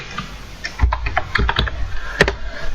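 Keys tapped on a computer keyboard to enter a command in an administrator console, a short burst of several crisp, close clicks at an uneven pace, with no one speaking.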